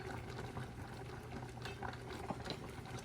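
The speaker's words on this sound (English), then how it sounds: "it is boiling, so we're going to drop the temperature down and keep it at a simmer" Dill relish brine at a rolling boil in a pot, a steady faint bubbling wash with small scattered pops and no voices.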